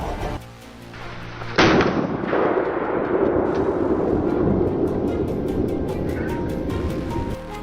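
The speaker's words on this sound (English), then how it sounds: "My finger tightens on the trigger instantly. The shot hits the mark." A single loud rifle shot during a wild boar hunt on a farm cracks sharply near the start and is followed by a long rumbling echo that fades slowly. A faint rhythmic ticking runs underneath.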